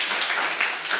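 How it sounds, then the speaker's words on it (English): Brief burst of dense clapping from an audience at a teachers' union principals' seminar in Mpumalanga, continuous and fairly loud for about a second. "Let's applaud her."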